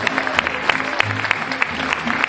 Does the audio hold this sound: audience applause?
yes